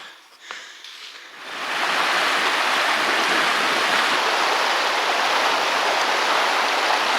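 A river current flows steadily on a New Zealand trail crossing, its dense broadband rush swelling in after a quieter second and then holding loud and constant, close by.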